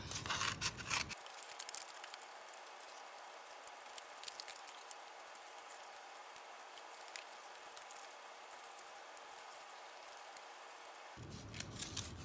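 Scissors cutting out paper pieces for a balloon-powered car model, soft rhythmic snips and paper rustle, close and quiet.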